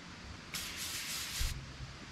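A single steady burst of non-stick cooking spray hisses for about a second, close and fairly loud, then stops.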